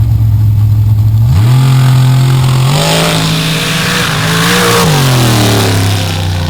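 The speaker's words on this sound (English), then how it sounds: "Now Tara McConnell in Kryptonite rolling out to see what she can do" A nitrous dirt drag racing car idles loudly at the line, then launches hard with a rising engine roar that holds high and shifts pitch as it runs down the dirt track, close and dominant with no speech.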